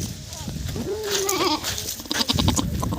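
A goat in a farm shed gives a short wavering bleat of about half a second, close and clear amid chatter and background talk.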